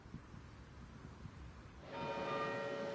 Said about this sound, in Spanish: Este sonido, el de las campanas, ha marcado el ritmo en el primero de los homenajes